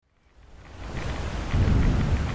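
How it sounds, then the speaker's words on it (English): Thunder rumbles and swells over steady heavy rain in a thunderstorm in the video game Fallout London, growing from silence to a loud, dense roar with no talking. "This place is always under storms, though, every time I come here."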